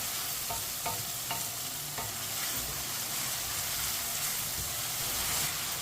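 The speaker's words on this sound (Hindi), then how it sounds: "मीडियम आंच पर इसे 3 मिनट के लिए पका लेंगे चम्मच चलाते हुए।" A spoon stirs kaddu chicken with tomatoes in a pan over medium heat, scraping in irregular strokes under a steady, close frying sizzle with no voices.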